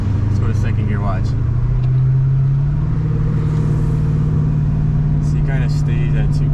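Car engine with a 78mm BBK throttle body held steady near 2,000 rpm in second gear on a highway, a continuous low drone with steady road rumble while someone talks over it.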